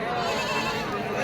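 Goats bleat close by at a sheep and goat livestock market in Atpadi, a loud drawn-out cry with market noise around it.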